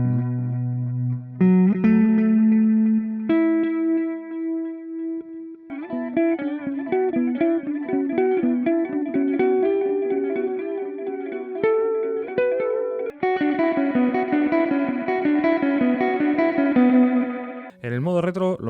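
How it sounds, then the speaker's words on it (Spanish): A Donner Island Delay pedal on its tape echo simulation setting processes guitar notes and chords: repeating echoes smear each phrase, and a warm, slightly saturated tone sustains throughout at a steady loud level. "Simulación de un eco de cinta."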